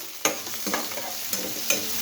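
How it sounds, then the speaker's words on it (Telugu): Steady sizzling of eggplant frying in a pan, with a few sharp clinks of a utensil stirring against the metal. "వంకాయలు బాగా ఎర్రగా వేపుకొని"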